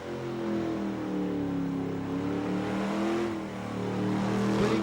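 Car at Summernats doing burnout 360s in the donut pit, a loud sustained engine roar with wavering revs held at high throttle, continuous and near.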